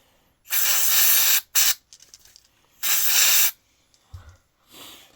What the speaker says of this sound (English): I just usually use contact cleaner through and through to remove all the gunks.